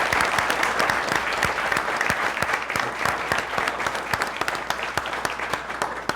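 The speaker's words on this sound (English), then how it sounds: "and I would move a round of applause for Jonathan's family, please." Sustained audience applause at a police officer of the year award ceremony honoring an officer's family, a dense, steady roar of many hands clapping throughout with a few sharper claps standing out.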